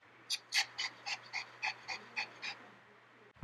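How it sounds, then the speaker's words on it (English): Dog sound effect in Crazytalk Animator: a dog pants in a steady run of about nine quick, evenly spaced breaths, fairly close and alone over a low hum, ending in a brief click. "let's see if we could just find the sound of a dog"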